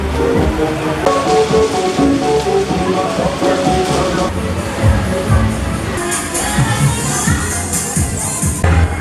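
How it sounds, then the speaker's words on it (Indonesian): Steady rain patters down over an outdoor night market in Batu, East Java, a dense wash of drops mixed with crowd murmur, distant music and scattered voices throughout. "Hujan guys, hujan."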